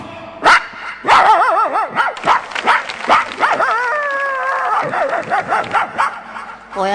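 A person mimics a dog with a run of barks, yips and whiny howls, loud and close, in uneven bursts.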